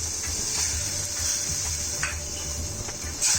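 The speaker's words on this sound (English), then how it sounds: "Let's stir this well." A garlic sauce of flour, milk and water is stirred in a pan over heat, with soft sizzling throughout and occasional light scrapes and clinks of the spoon against the pan, close and without talk.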